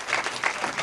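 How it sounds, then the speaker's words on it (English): Brief burst of audience applause at a Diwali programme in a Hindu temple hall, a dense wash of clapping with no speech over it. "round of applause for Dr. Desai."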